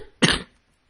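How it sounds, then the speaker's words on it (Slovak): A single short, sharp human cough, close and fairly loud, lasting about a third of a second before silence. "Budem takto počas videa kašľať."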